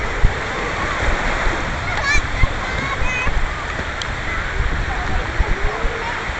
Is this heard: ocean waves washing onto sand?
yes